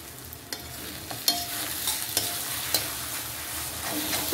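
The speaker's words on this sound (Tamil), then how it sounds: "இப்போ நான் ஒரே ஒரு முட்டை பீட் பண்ணி இதில் ஊற்றுறேன்." Beaten egg poured into a hot pan with leftover chapati for egg kothu parotta hisses into a steady sizzle, broken by a few sharp clicks and scrapes of a utensil against the pan.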